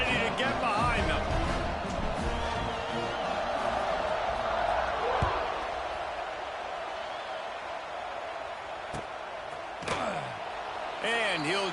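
A stadium crowd roars in an American football video game, a steady wide cheer under the commentator's talk, with a few sharp thuds and slaps breaking through.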